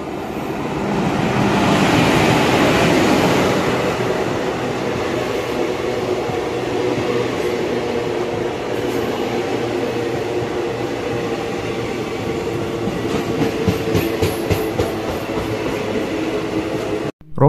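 A superfast express train rumbles steadily alongside a platform at an Indian railway station, its rolling clatter loud and continuous, with rhythmic wheel clacks toward the end.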